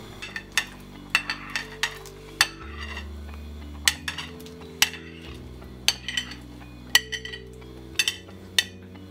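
Blocks of pumpkin go into a pot of soft, simmering rice porridge, producing a series of sharp clinks and knocks of a utensil against cookware that recur irregularly over steady tonal background music.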